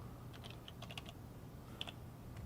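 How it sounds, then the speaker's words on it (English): Quiet, uneven bursts of keystrokes on a computer keyboard, a few quick clusters of clicks separated by short pauses, heard alone at low level. "So Michael, go ahead and type some stuff on the cursed keyboard, please"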